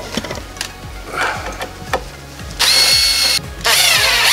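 A power drill driving gold turbo screws into wood without pre-drilling, with short whirring bursts and ratcheting clicks, then two longer, louder sustained runs of the motor up close.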